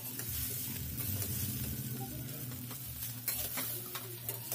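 Sabudana khichdi with roasted peanuts frying and being stirred in a pan, giving a steady close sizzle with soft scraping strokes throughout and no talking.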